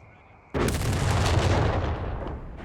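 Heavy mortar fire in the WWII strategy game Company of Heroes 3 starts with a sudden loud blast, then a dense, sustained roar of explosions and battle noise that slowly fades over a couple of seconds.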